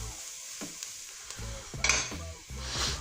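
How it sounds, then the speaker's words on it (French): Curry powder stirred and toasted in a pot for mussels: scraping spoon strokes against the metal with a soft steady sizzle underneath, close and fairly quiet, no talking. "On mélange le tout, comme ça on va le faire torréfier un peu."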